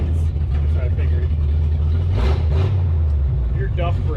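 The flathead V8 engine of a 1936 Ford pickup truck runs with a deep, loud, continuous rumble close by, while voices talk over it.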